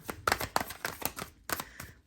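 Tarot cards shuffled by hand in a few quick riffling bursts, close and fairly quiet, with brief pauses between the ruffles.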